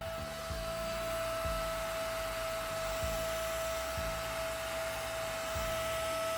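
A VAX Platinum Spot Wash carpet cleaner runs its self-cleaning cycle, giving a steady, loud motor whine with a constant pitch and low pulsing gurgles of water being drawn through it, with no talking.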